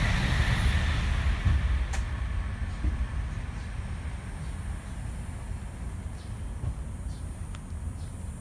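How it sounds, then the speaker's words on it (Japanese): Low, steady rumble of Shinkansen bullet trains and JR line trains passing at a distance at the Kiyosu Castle ruins, with faint metallic squeals and occasional bird chirps over continuous outdoor noise. "新幹線や JR の列車の音を聞いてもらいます"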